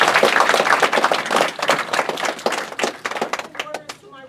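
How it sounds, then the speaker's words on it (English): Audience applause and clapping at a candidate debate fill the room, a dense wash of claps over about four seconds that thins toward the end as a voice begins to speak. "Give them a round of applause."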